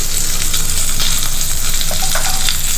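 Cumin seeds, curry leaves and green chillies frying in hot oil in a pan for tempering, giving a steady close sizzle with light crackles and pops throughout.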